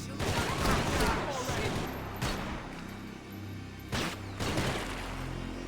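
Sustained gunfire in the Max Payne 3 shooter game during a graveyard firefight against a sniper, dense bursts and several sharp volleys over a continuous battle din, with voices talking in between.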